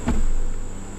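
Honey bees buzz close by during a late-July hive inspection, a short, steady insect drone with a soft swell at the start and no voices.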